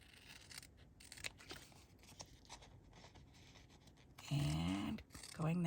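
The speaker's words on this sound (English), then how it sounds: "now we're going to cut this corner and this corner off" Scissors cut the corners off a fabric square for a quilted pumpkin, giving faint, close snips and scratches, followed by a voice speaking near the end.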